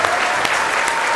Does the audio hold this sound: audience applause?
yes